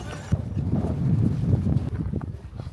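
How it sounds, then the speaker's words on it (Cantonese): A horse's hooves clip-clop at a steady walking pace on a ride near a volcano crater, Mount Bromo in East Java. Background noise and some rumble run throughout, with no clear speech. "就騎翻隻馬仔啊，出翻去啊"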